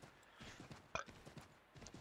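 Horse hooves clip-clop at an even walking pace in the Assassin's Creed 3 video game, close and moderately loud, with one sharper hit partway through and a faint murmur of voice underneath.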